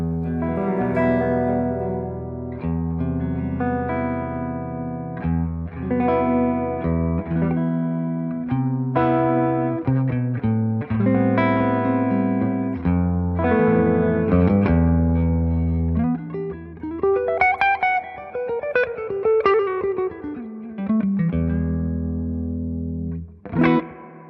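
Electric instrument played through a real spring reverb tank, with sustained, distorted chords and notes washing into one another; the effected tone plays loud and continuous, with a busier, rising swirl of notes near the end.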